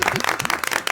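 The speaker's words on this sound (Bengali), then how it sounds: "হাততালি হাততালি হাততালি," Clapping at a meet-up gathering, a short burst of close, fairly loud hand claps from a small group, mixed with voices.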